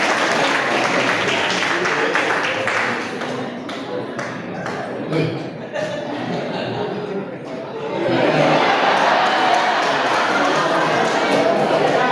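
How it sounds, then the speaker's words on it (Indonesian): A church congregation at a parish pastor handover ceremony claps in dense, sustained applause, swelling louder toward the end, with talk and chuckles mixed in. "Sekali lagi boleh dong tepuk tangan untuk Pastor."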